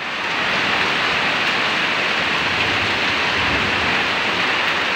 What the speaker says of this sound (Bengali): খুবই বৃষ্টি চলছে।